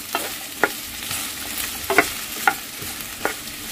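Okra frying in oil over high flame for a sambar, with a steady sizzle and a few sharp scraping stirs of the spoon in the pan, close and without talk.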